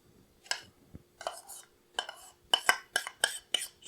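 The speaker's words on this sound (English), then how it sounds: "Scrape all that deliciousness out of there." A utensil scrapes and knocks against a pan while honey chicken sauce is cleared out, a string of sharp metallic strokes that start sparse and quicken into a rapid rhythmic run, close and fairly loud.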